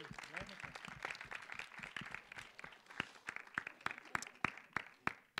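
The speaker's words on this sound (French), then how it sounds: "Je crois qu'on peut aussi les applaudir." Small audience applauding the interpreters at a public talk, scattered sharp individual claps of uneven rhythm, fairly close and quiet, with light murmuring underneath.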